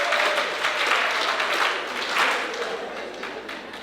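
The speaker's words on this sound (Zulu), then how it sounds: "ake simshayele ihlombe uJeremiya" An audience applauds for Jeremiah at a civic event in Jozini where the mayor hands over a house, steady dense clapping throughout with a brief swell midway.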